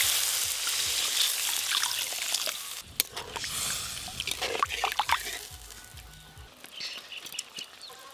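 Water poured into a pan of sizzling fried spice paste for a bhola fish curry, giving a loud, steady frying hiss that shifts into bubbling, trickling and popping spurts as the liquid hits the hot masala.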